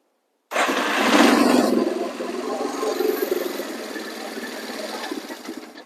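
Neglected Yamaha Warrior 350 ATV engine idling with the choke off, a steady, close, rough putter that starts abruptly, surges briefly and then settles into an even running drone with slight unevenness.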